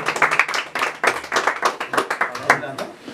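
Group applause and clapping for a man's birthday at a party with a mariachi band, a steady patter of many hands lasting a few seconds with voices mixed in.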